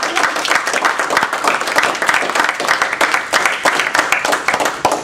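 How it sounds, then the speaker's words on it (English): Lively round of clapping from a small Toastmasters club audience, close and fairly loud, with uneven bursts of individual claps throughout and no one speaking. "I want everybody to give another round of applause to two people"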